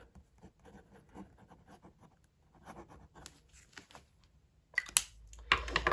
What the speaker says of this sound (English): fine nibbed fountain pen. And that's just with a Pilot black cartridge.